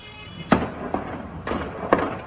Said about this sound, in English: Gunfire could be heard echoing across the town of Sderot